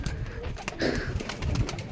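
Pigeons of several breeds, including Giribaz, coo softly at close range in a steady low murmur, with some background rustling and noise.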